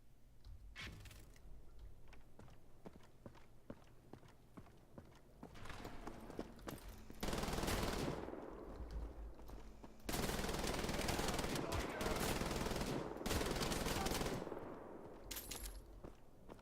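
Rapid automatic gunfire in a video game: fast rattling bursts of shots, some long and sustained and loud, others shorter and spaced apart, close and harsh.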